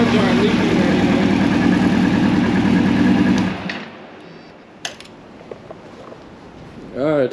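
A Yamaha FZ1 1000cc motorcycle, started for the first time in eight years, idles with a steady, loud, close engine drone for about three and a half seconds, then shuts off, leaving quieter handling sounds and a brief voice at the end.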